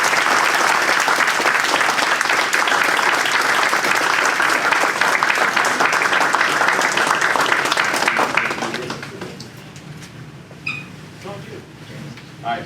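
Sustained applause from a university student audience at an alumni military panel, full and steady for about eight seconds, then tapering off into scattered claps and faint room sound.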